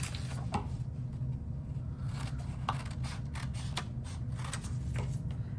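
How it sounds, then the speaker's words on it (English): Scissors snip through paper in a series of crisp, irregular cuts close up, over a low steady hum and without any voices. "I'm gonna grab my scissors now and I'm going to cut this line that we made."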